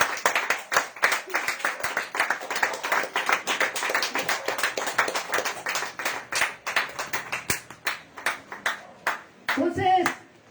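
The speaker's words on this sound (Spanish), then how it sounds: "Denle aplausos al Señor." A church congregation claps along, keeping a sustained, fairly even run of rhythmic hand claps at moderate distance that fades toward the end, where a brief voice cuts in.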